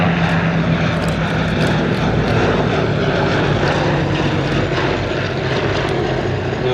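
A WWII propeller bomber rolls in for a display pass at Sywell Airshow, its piston engines a loud, steady, throbbing drone that holds throughout without break.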